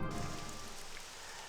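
Steady rain patters down in the video game Morrowind, a dense, even hiss of drops on the ground that is fairly faint and continuous throughout.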